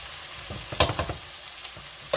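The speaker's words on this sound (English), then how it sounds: "I am going to dump my eggplant into the magic pot of onions and tomatoes." Eggplant tumbles into a pot of onions and tomatoes for a stovetop ratatouille, giving a few soft thumps and clatters followed by a low simmering sizzle, with a final sharp knock near the end.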